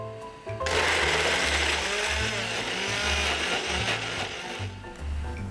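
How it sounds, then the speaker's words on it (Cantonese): A kitchen blender grinds chili spice ingredients with oil for Nyonya mee siam, a loud steady whirring roar running nearly the whole time after a brief quiet start, with a low rumbling hum underneath. "然後將所有嘅材料放入攪拌機，"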